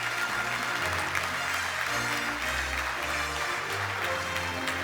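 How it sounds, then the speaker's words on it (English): Steady, dense clapping from an audience thanking a presenter after a talk on enterprise analytics, continuous and even throughout without speech. "If you liked it, clap for Iris."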